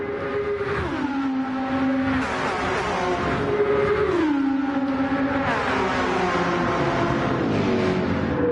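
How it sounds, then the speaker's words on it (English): Porsche race cars in a close pack at the Nürburgring 24-hour race, engines revving loud and near with repeated pitch drops as they shift and pass one after another. "We have got a bit of a train of Porsches going on there."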